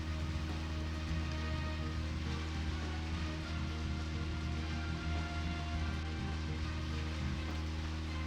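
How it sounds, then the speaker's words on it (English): Steady heavy rainfall in the video game Deadly Premonition, an even wall of hiss and patter with a constant low hum beneath it, unbroken throughout with no voices. "You literally just see that wall of rain as you leave the tunnel."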